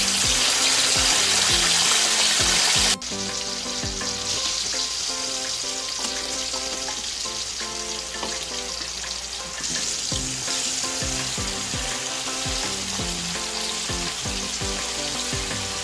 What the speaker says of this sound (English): I'm adding eggs.